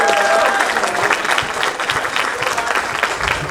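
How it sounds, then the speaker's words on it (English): Loud, dense applause from a festival crowd at a cultural event, steady and continuous throughout with a few voices mixed in. "Give him a big round of applause"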